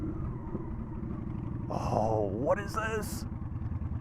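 A Honda Shadow motorcycle rumbles with a steady low engine throb while being ridden along a desert road, close and continuous under a man's brief excited speech.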